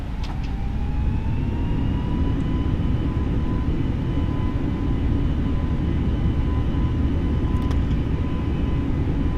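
Simulated aircraft noise from Microsoft Flight Simulator 2020 at the start of a take-off from Heathrow, a steady engine hum under a rising tonal whine, with a couple of brief clicks near the start and end, no voices.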